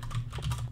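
Quick, light keystrokes on a computer keyboard during a Windows software setup, a short close burst of uneven taps.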